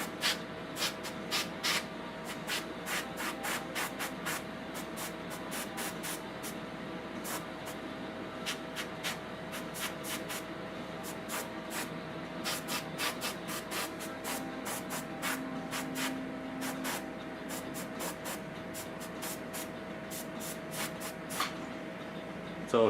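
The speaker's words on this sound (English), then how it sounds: "So I like to kind of spray where it's positioned" Short bursts of spray paint hiss repeatedly onto a Jubilee X-Men model kit piece, fairly quiet and close, with a steady background hum and no talking.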